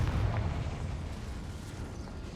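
A Harry Potter Confringo wand spell goes off as a low, rumbling explosion that starts with a soft boom and settles into a steady muffled roar, fairly quiet throughout.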